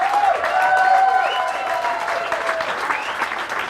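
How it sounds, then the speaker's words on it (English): Sustained applause from a crowd at a VFW post comedy night, steady and loud throughout, with a few tonal musical notes or whistles sliding over the clapping. "and so give Emer Mazzetti a big round of applause."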